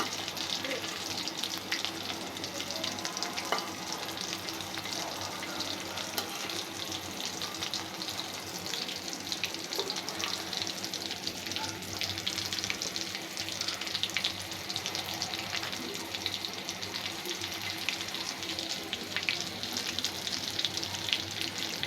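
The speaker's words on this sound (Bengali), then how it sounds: "আমি অল্প অল্প জাল দিয়ে ভাজছি, বেশি জাল দিলে পুড়ে যাবে" Food frying slowly over medium heat in a pan, a soft, steady sizzle and crackle that runs evenly throughout, close and quiet with no voices over it.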